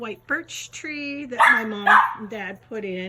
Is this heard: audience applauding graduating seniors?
no